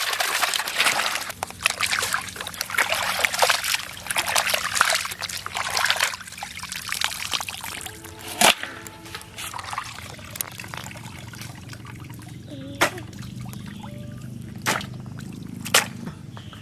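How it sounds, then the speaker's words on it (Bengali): Chicken meat being washed by hand with water in an outdoor village kitchen, with irregular trickles, splashes and sloshing, a few sharp knocks against a vessel and quieter dribbling toward the end. "মাংসটা আমরা দুবার ধুয়ে নিয়েছি, আর একবার ভালো করে ধুয়ে নেব।"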